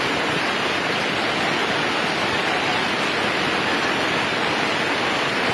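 Flash flood water in Limboto, Gorontalo, surging along with logs and tree trunks, heard as a continuous loud roaring rush that stays unbroken and steady throughout, with no voices.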